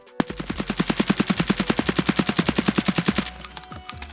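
Full-auto bursts from an AKMN 7.62 rifle in Escape From Tarkov, a loud rapid string of around thirty evenly spaced shots lasting about three seconds, then a short tail of echo and shell clatter.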